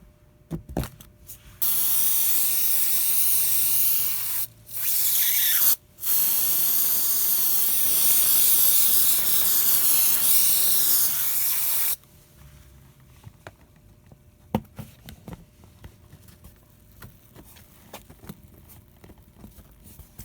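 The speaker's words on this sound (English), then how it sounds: "So I will spray on some glue and stick that piece in." A loud, continuous aerosol hiss of spray adhesive from a can sprays for about ten seconds with two short pauses, then stops, leaving faint clicks and handling noises.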